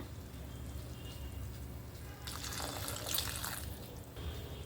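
Water pours steadily for a couple of seconds into a cooking pot of sambar over a low background hum, a splashing rush that rises and then tapers off.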